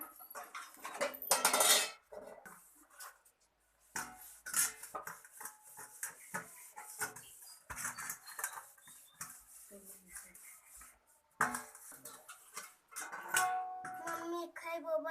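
Metal dishes, plates and cutlery clatter and clink in a household, repeated sharp rattling bursts scattered through the clip alongside people talking.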